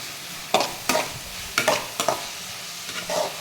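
Kashmiri chillies sautéing in a pan for paneer butter masala gravy, with a handful of sharp scraping stirs over a faint steady sizzle, close and fairly quiet.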